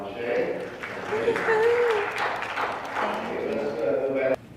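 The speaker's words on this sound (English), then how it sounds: "And let's give a round of applause to Dr. Monche." Audience applause at a medical injection training session, a round of clapping running throughout under a speaking voice that carries on over it, ending abruptly.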